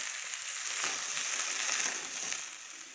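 A pan of amudi fish curry is stirred after salt and turmeric are added, giving a soft, steady sizzle with faint scraping throughout.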